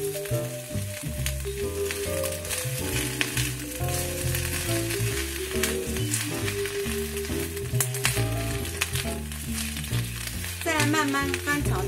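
Napa cabbage, stems first and then leaves, stir-fried in a wok for a cabbage and tofu dish, with a soft steady sizzle and turning sounds running under loud background music.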